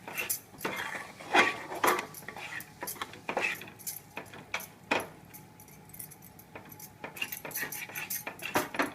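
Metal spoon scraping and clinking against a pan while coconut pieces and dough chalividi mixture are stirred, giving repeated sharp clinks at an irregular rhythm, close and moderately loud, with no talking.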